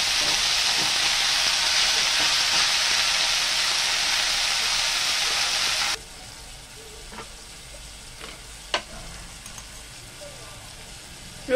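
Chickpea greens (chola saag) sizzle in a pan, a loud, even hiss for about six seconds that abruptly drops away, leaving a quiet room with a few soft clicks and a sharp tap.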